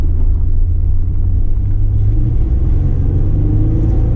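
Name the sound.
LS-swapped Chevrolet Nova engine accelerating on first drive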